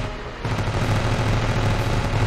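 Continuous rapid machine-gun fire from a Swedish mod weapon aimed at an aircraft in the video game Ravenfield, a loud, sustained dense rattle starting abruptly and running steadily to the end.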